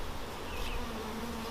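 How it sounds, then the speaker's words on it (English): Dense, steady buzzing of a crowded honey bee hive box packed with young bees, continuous and close with no voices over it. "place that down in this box that's just packed full of bees, lots of young bees in there"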